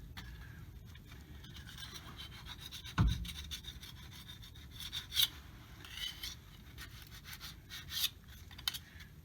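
A sharpened putty knife scrapes old gasket material off a Ford differential cover in soft, repeated rasping strokes, faint and close, with one brief louder knock early on.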